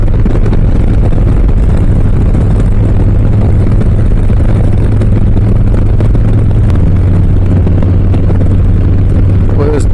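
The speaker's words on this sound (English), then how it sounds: "Boy, this bike sounds so good." A Harley-Davidson Low Rider S motorcycle engine on the road gives a loud, steady, low rumble with rushing wind. It stays continuous throughout, with no clear gear changes.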